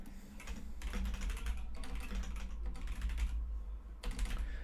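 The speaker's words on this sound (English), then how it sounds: "I got a new keyboard. Hopefully you can hear it less." Steady typing on a new computer keyboard, a dense run of close clicky keystrokes with brief pauses, over a low constant hum.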